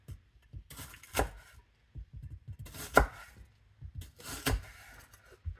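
A knife chops through a quarter of an onion on a cutting board at home while making nachos, giving sparse, uneven thuds and crunches spread across a few seconds, close and moderately quiet with no talk.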